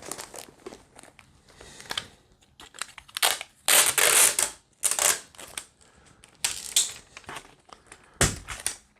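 Adhesive tape is pulled and handled while reinforcing the ends of a towel whip, giving close, irregular bursts of crinkling and tearing rustle with short quiet gaps between them.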